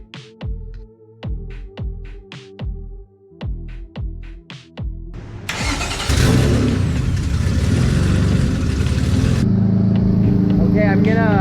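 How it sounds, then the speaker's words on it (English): A car warming up in a workshop: a string of sharp regular knocks or revs at first, then the engine settling into a loud, steady, continuous running roar close by. "I'm gonna warm up the car and see if it's gonna do choo-choo noises."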